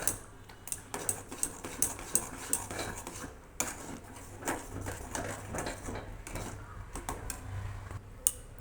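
A spoon scrapes and taps steadily against a pot while milk powder is stirred into a sabudana mixture, making quick, close, rhythmic clinks with no speech.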